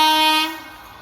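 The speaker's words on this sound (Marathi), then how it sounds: "मित्रांनो ट्रेन येता पाहू शकता" A train passes close by with its horn blaring loudly and steadily, the sustained horn then cutting off as the rumble of the cars continues and fades.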